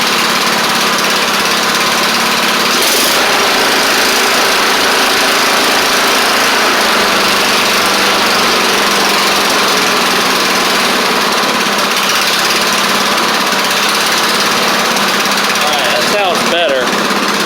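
A Troy-Bilt Bronco riding mower engine runs loud and constant at close range, a rough, buzzing drone that holds steady throughout.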